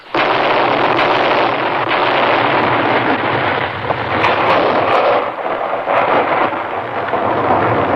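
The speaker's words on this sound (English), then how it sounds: "That is the sound of a United States Forest Service artillery team clearing an avalanche" A dense, continuous rumble of distant heavy booms from United States Forest Service artillery clearing an avalanche rolls on without pause, loud and thunderous, with faint sharper cracks scattered through it.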